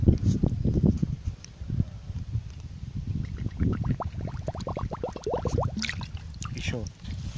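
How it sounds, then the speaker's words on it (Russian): A plastic bottle used as a float for a pike and zander fishing rig is filled with water outdoors, giving a run of close gurgling glugs with rising pitch over low handling noise. "поставушку заполняем водой"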